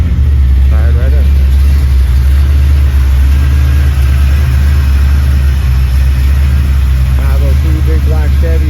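A 1975 Buick LeSabre fitted with a black Chevy V8 with aluminum heads idles close by, a loud, steady, deep rumble that runs throughout, with a voice briefly over it near the start and again near the end.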